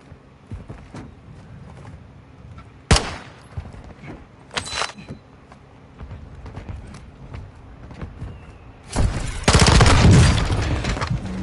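Call of Duty gunfire: two sharp, isolated shots early on, then a louder, sustained burst of rapid fire near the end, with small clicks and handling noises between.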